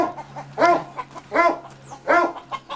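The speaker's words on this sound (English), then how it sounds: "Those are the dogs." Three loud dog barks ring out at an even pace, close and clear, with a low steady hum underneath.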